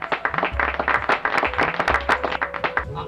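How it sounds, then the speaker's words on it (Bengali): Audience clapping at a Durga Puja committee beauty pageant event, a steady mass of hand claps over about three seconds with a low hum in the background and no talking. "একটুখানি জোরে হাততালি শুনে নেবো প্লিজ"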